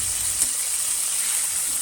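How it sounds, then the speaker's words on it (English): Continuous bright sizzling of potatoes and cauliflower frying in shallow oil, steady and close, with no voices. "The first method is what I'm using, that is to fry them in shallow oil."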